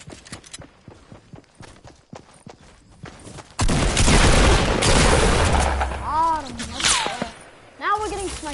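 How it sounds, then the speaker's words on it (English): Sniper and rifle fire in a shooter video game, with a sudden loud burst of gunfire and explosive noise after a quieter stretch of scattered shots, alongside chirping effects and voices talking. "Now we're getting sniped at"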